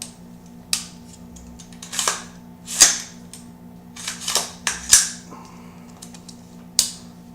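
Sharp metallic clicks of a pistol being cleared and dry fired, including slide and trigger clicks, spaced irregularly over a quiet steady hum, close and crisp with no talking.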